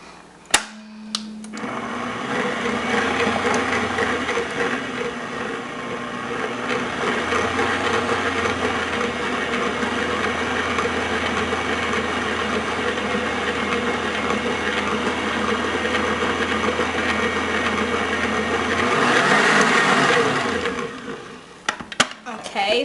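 An electric hand mixer churns flour into chocolate chip cookie dough in a bowl, running as a steady, loud whir for about twenty seconds before a brief clatter as it stops.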